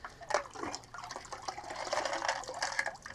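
Aquarium filter media, fluffy floss and sponge, being rinsed and squeezed in water during a basic tank water change, giving a close, continuous splashing and sloshing with a few sharper splashes and no talking.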